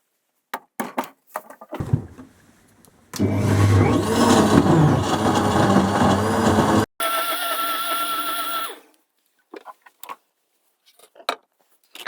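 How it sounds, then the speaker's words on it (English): A loud blender blending paper pulp for recycled paper whirs steadily for several seconds, then shifts to a higher, thinner whine before stopping, with brief knocks and clatter around it. "let's blend it up"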